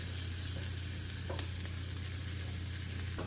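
Onion strands fry in a pan for an onion and spinach grilled cheese, a steady close sizzle with a few brief clicks and spatters and nobody speaking.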